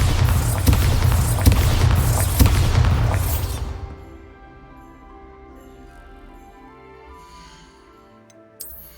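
A Bombarda blasting spell goes off in Hogwarts Legacy, a string of loud booming bursts and crackling impacts that fade out after about four seconds into a quiet low hum, ending with a short sharp noise.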